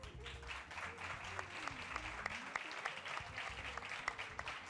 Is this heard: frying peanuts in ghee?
no